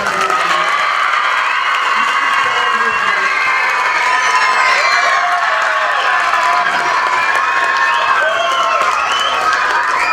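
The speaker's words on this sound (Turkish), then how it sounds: "bir dakikalık alkış rica ediyorum" A large crowd at the opening of a children's book fair applauds and cheers continuously, with children's shouts and screams rising over steady clapping throughout.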